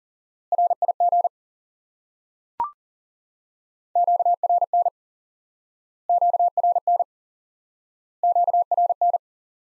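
Morse code practice tones spelling the word rig, sent as a single element repeated: four separate groups of quick, steady beeps with even pauses between them, plus one sharp click early on. No voices.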